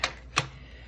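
Two sharp, close blade cuts slice through a worn-out planner item, each a crisp snap about a third of a second apart, in a quiet room.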